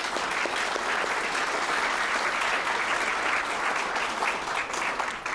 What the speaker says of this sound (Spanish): Yo pido un aplauso para ella.